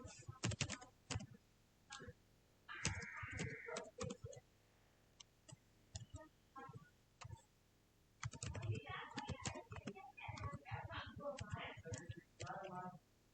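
Python code for a heart-shaped plot is typed on a computer keyboard in quick bursts of close key clicks. A pause separates two runs of typing, and a short voice is heard early on.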